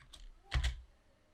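A short burst of keystrokes on a computer keyboard, a couple of soft clicks followed by two louder close taps, then quiet.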